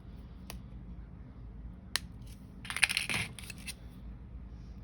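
Jewellery wire is snipped while wrapping a ring: two small isolated ticks, then a brief cluster of sharp metallic clicks from the cutters near the middle, close and quiet against a low room hum.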